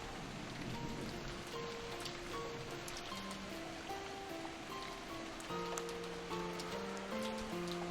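Steady rain from the Umineko video game, a continuous patter of drops on surfaces under a soft piano melody, even and unbroken throughout.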